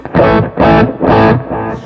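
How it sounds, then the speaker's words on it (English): Electric guitar played through high-gain compressed overdrive, three or four thick sustained chords struck in a row, loud and close, each ringing briefly before the next. "So I definitely have like a lot of gain going on, but it's not distortion. It's just like compressed overdrives"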